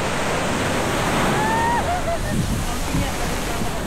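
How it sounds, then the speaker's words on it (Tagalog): Strong sea waves crash and wash continuously against an island shore in Zambales at high tide, a loud, steady roar with surges of surf, while people talk briefly over it. "Sarap na alon. Ang lakas."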